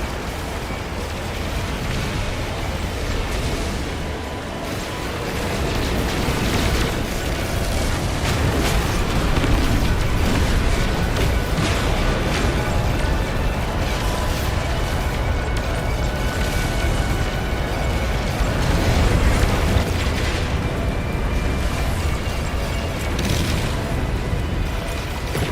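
Missile explosions in space combat from No Man's Sky form a continuous loud, rumbling barrage of booms and bursts with no letup, dense and close throughout.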